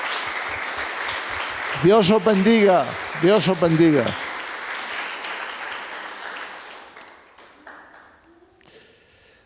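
A church congregation gives a round of applause for fellow believers following online, the clapping running under a man's spoken blessing for a few seconds before thinning out and fading away.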